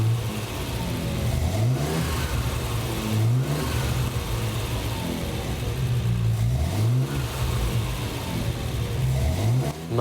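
A fuel-injected Triumph TR6 engine, converted from carburettors, runs close by with a steady mid-pitched hum, rising in three distinct rev blips spaced a few seconds apart, with no talk.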